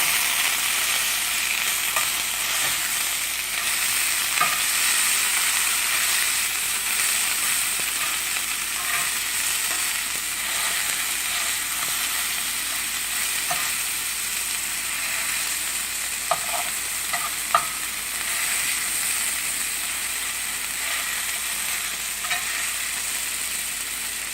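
A smashed burger patty fries in a pan for a Loco Moco, giving a steady, moderately loud sizzle with occasional small pops and light spatula knocks, no voices.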